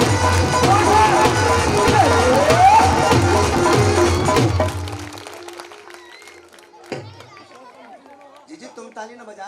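A crowd at a Hindu devotional jagran claps along to loud, rhythmic devotional music with a steady beat for several seconds. The music then cuts out, leaving quieter scattered sounds while a voice talks.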